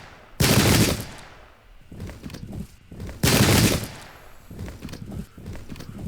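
Rifle volleys crash out in a Zulu War battle video game, two big massed bursts of gunfire separated by scattered, sputtering shots and echoing crackle, loud and close.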